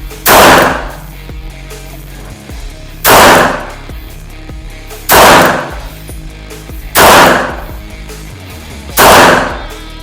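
Five loud, sharp shots from a Smith & Wesson M&P Bodyguard 380 pistol with a Crimson Trace sight, fired evenly about two seconds apart. Each crack fades into a brief echo, and no one speaks.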